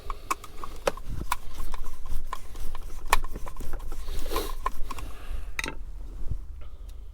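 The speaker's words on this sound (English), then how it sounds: "So you just start screwing those in." Screws being driven into an electrical switch box, with repeated sharp clicks and scraping mechanical taps close by over a constant background hum, no speech.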